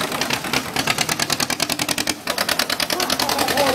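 A restored vintage tractor at a veterans' machinery show in Oulainen, its engine idling with a fast, even chuffing pulse, close and steady throughout.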